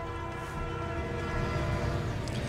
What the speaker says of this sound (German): Ah, da kommt ein Zug.